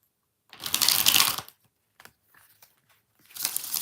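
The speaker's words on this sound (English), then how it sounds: "3 more shuffles." A burst of tarot card shuffling, a riffle lasting about a second, then a few soft taps and another shuffle starting at the end.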